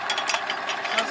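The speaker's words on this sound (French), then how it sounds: "Ça c'est du tracteur." A tractor engine runs close by with a steady mechanical rumble and rattle, under people talking.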